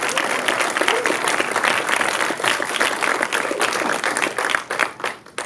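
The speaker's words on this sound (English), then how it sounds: "A round of applause." An audience at a post-screening discussion in a New York cinema breaks into dense, sustained applause for a film's cast, loud and close, fading slightly toward the end.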